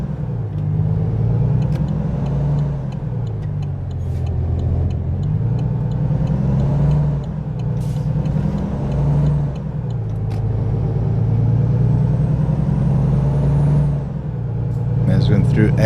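A heavy truck engine in a trucking video game, rumbling loud and steady as it climbs through each gear in turn, pitch rising and dropping with every shift, air-brake hiss near the end.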